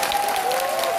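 Concert crowd applauding at an outdoor show by a trot singer in Hapcheon, a short burst of massed clapping with a faint sustained tone running underneath.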